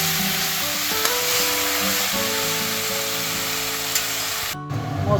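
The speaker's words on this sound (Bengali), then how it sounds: "আমি হালকা করে ভেজে নেব।" Mushrooms frying in hot oil in a pan make a continuous, fairly loud sizzle with a few light stirring knocks, ending in an abrupt cut.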